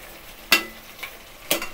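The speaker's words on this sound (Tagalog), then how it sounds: "ibabalik natin siya guys sa kaldero upang haluin" Food is stirred in a cooking pot (kaldero), with two sharp scraping clanks of a utensil against the metal about a second apart and a softer scrape between, close and alone.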